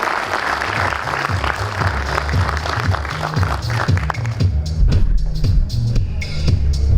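A conference audience gives sustained applause after a speech by the FIFA president, a dense steady clatter of many hands that swells toward the end, with a voice speaking over it.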